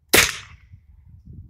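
A single loud, sharp crack from a homemade gun fired down into a pit, close by, snapping in suddenly and fading over about half a second into a low, faint rumble.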